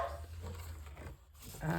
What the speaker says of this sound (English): UPS is here making the dog bark